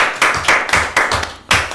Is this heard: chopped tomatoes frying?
no